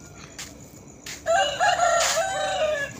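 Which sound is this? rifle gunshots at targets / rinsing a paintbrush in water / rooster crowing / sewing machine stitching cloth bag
rooster crowing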